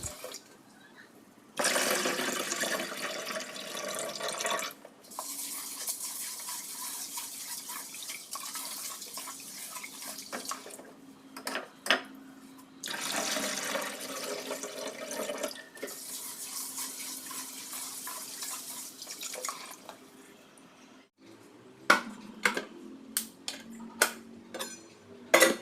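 A tap runs in bursts while dishes are washed, with stretches of steady splashing water broken by pauses and, near the end, light clinks and knocks of dishware.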